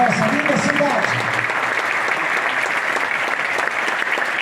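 An audience at an entrepreneurship and innovation talk breaks into loud, sustained applause, dense clapping that carries on evenly, with a brief voice audible at the start.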